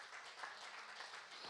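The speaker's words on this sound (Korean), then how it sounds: "하나님께 다시 한번 감사의 박수를 넣으시고" A church congregation at a Friday worship service claps together, a faint and steady patter of applause from a distance.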